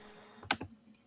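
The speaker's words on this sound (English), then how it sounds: "somebody's typing and they need to mute themselves" A few quick keystrokes on a computer keyboard during an online committee meeting, two or three sharp clicks close together over faint room hiss.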